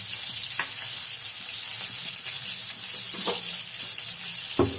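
Mustard seeds, fenugreek and shallots sizzling in hot oil mixed with leftover fish-frying oil, a dense steady close crackle with occasional soft scrapes and a louder clatter at the end.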